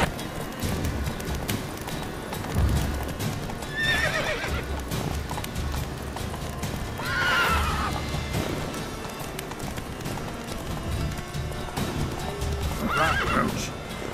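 Roach, a horse in The Witcher 3, gallops with a steady clip-clop of hooves, several whinnies breaking out over the hoofbeats at moderate volume.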